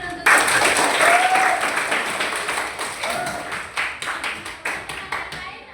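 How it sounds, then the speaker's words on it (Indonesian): Classroom applause for classmates during a maths lesson, a steady burst of many hands clapping that fades in intensity, with scattered individual claps trailing off near the end. "Tepuk tangan dulu untuk teman-teman"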